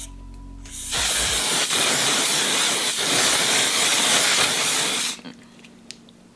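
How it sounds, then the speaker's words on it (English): A One Size On Till Dawn mattifying waterproof setting spray aerosol sprays in one continuous loud, close hiss for about four seconds, stopping abruptly. "I'm going to go ahead and use the One Size On Till Dawn Mattifying Waterproof Setting Spray."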